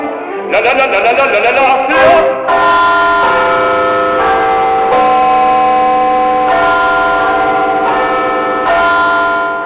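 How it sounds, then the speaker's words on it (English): Big Ben's bells ring out with loud, repeated strikes whose tones overlap and hang in the air, sounding steadily for about ten seconds with no talking. "do come from all over the world just to listen to the bells of Big Ben"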